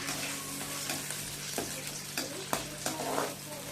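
Onions frying in a pan with a steady, close sizzle, broken by several stirring scrapes and light taps of a utensil against the pan.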